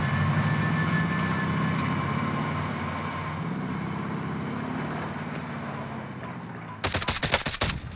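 Rapid automatic gunfire from a Call of Duty Cold War match rattles continuously at close range, dense and loud, then breaks into sharper, heavier bursts near the end.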